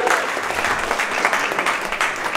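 Steady applause from an audience at a political victory party fills the whole stretch, dense and continuous without pauses.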